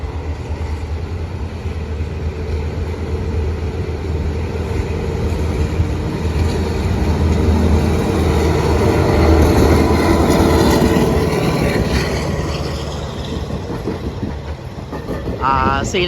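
An Alstom diesel locomotive hauling a passenger train rumbles past steadily at a level crossing near Lopburi station, Thailand, with a low, continuous roar and faint rhythmic clatter, building slightly in the middle before easing off.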